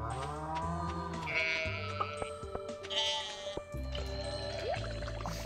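Sheep bleating in the farming game Stardew Valley, several separate bleats mixed with chimes and other game sounds over a steady musical backdrop, fairly loud and close.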